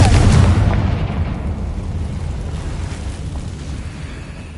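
A spell blast explodes in the Hogwarts Legacy video game, a loud booming burst up front that decays into a rumbling tail over several seconds.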